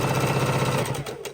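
A sewing machine runs steadily, stitching two right-sides-together quilt fabric pieces for a beginner four patch block in a straight unpinned seam with a quarter-inch foot, a continuous close mechanical whir that slows near the end.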